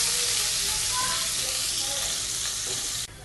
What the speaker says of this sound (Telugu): రెడ్ చిల్లీ అండి యాడ్ చేసిన తర్వాత కొంచెం లైట్గా ఫ్రై చేసుకోవాలండి. నెక్స్ట్ గార్లిక్ అండి, గార్లిక్ సన్నగా కట్ చేసి యాడ్ చేస్తున్నానండి.